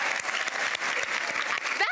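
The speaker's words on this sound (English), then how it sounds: "Can we please have another huge round of applause for the musicians from the" Awards event audience applauding musicians from the clubhouse, a dense, even roar of clapping from a large crowd, loud and sustained, with a voice faintly starting at the very end.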